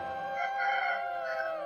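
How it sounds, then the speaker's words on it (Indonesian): A rooster crows in a long, wavering call, moderately close, with no other voices around. "Pengkorongok ayam pun dan burung-burung berkicau mulai bersautan"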